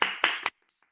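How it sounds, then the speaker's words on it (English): Three quick hand claps, loud and close, the first two spaced evenly and the third following sharply, then near silence. "I'm going to clap."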